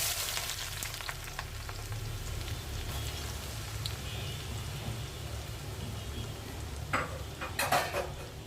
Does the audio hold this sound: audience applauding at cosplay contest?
no